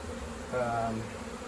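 Short burst of buzzing from a strong honey bee colony inside a shed, a brief swelling hum over soft background noise.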